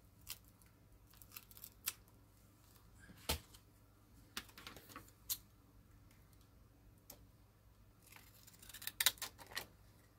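Scissors trimming the edges of paper journal pages during a craft session, heard as sparse, quiet snips and small clicks scattered across a hushed room, with a brief cluster of sharper cuts near the end.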